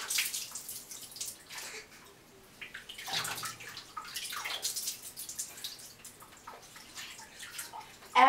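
Water splashes and trickles irregularly in a bathtub while a dog is washed, soft dripping and pouring close by with no talking.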